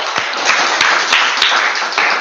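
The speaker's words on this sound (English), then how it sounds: "Let's give him a round of applause" A club meeting audience of Toastmasters members claps steadily and densely for about two seconds, with a few sharper individual claps standing out.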